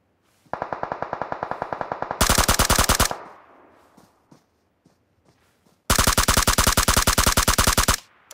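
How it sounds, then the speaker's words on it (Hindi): Automatic gunfire in a battle royale video game: a long rapid burst, a louder close burst, a pause with faint echoing shots, then another loud sustained burst. "तभी सामने से गन शॉट के साउंड आए"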